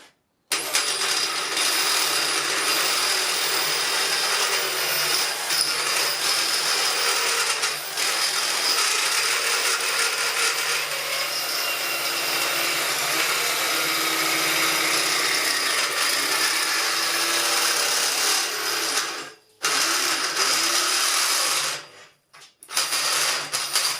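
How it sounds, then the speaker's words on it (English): A power tool notching a steel kart chassis tube, a loud sustained high-pitched grinding whine running almost without pause, cutting out briefly near the end, with no talking. "Let's notch it up, let's see what happens."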